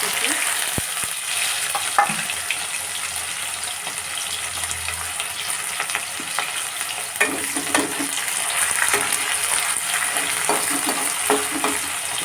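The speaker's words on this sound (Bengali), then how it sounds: "দিলাম শুকনো লঙ্কা আর জিরে এবার দেবো আমি পেঁয়াজ" Onion frying in hot oil with dried red chilli and cumin, a loud continuous close sizzle with occasional stirring scrapes and clinks against the pan.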